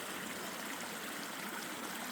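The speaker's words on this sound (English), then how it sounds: "It's creating this little waterfall." Creek water pours over a log and forms a small waterfall, a steady, close, full rush of splashing and trickling flow with no voices.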